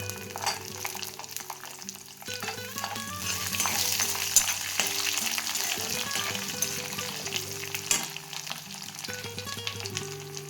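Garlic cloves fry in hot oil for a vegetarian sundal kuzhambu, just after curry leaves go into the pan. A steady, moderate sizzle crackles throughout with a few stirring sounds, and background music plays underneath.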